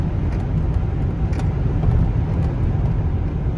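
Steady, loud low-pitched drone of a Chevy TrailBlazer 4.2 I6 accelerating on the road, its engine and road rumble filling the whole stretch without pause, heard from inside the cabin.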